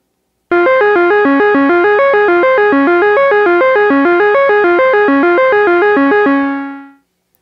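Cassette tape played back at fast speed on a Sony deck, giving a loud, continuous run of bright, stepping tones with a sped-up, pitch-raised character that holds steady, then trails off into a sustained note before stopping.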